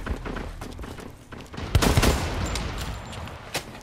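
Gunfire from the Blacklight Retribution shooter game crackles in scattered, fairly quiet shots, with a denser cluster of bursts near the middle over low game background noise.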